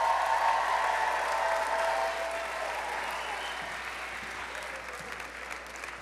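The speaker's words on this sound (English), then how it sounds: "Let's give them a round of applause." An audience at a morning chapel service claps for senior expedition guests: dense, sustained applause that starts full and slowly tapers, with a faint voice underneath.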